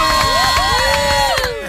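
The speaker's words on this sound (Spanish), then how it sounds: "esos aplausos" A loud crowd at a televised awards show cheers and whoops continuously in a short burst, with excited shouting layered over the roar.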